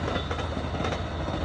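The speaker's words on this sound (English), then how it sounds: "This is an Amtrak train." An Amtrak passenger train rolls past up close along a canal valley, a loud steady rumble of wheels on rails with rhythmic clacking and a thin high squeal running through it.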